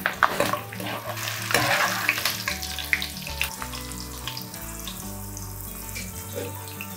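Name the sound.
frying curry leaves in a pan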